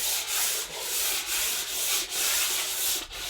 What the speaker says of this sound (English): This is some light sanding